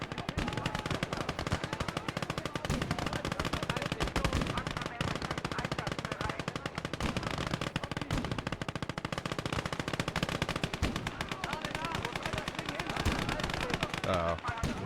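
Rapid machine gun fire rattles without pause in a modded war video game, dense overlapping bursts and distant artillery filling the whole stretch, with a voice faintly underneath.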